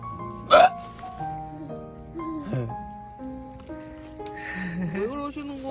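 A man's single sharp hiccup bursts out near the start at a winter seaside campsite, set among soft voices and tonal background sounds that continue afterward.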